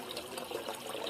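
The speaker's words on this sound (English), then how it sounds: "once it crosses over there, it will then flow out into these supply lines" Water flowing steadily through an aquaponics U pipe into supply lines, a soft, even, continuous wash with faint trickling detail and no talking.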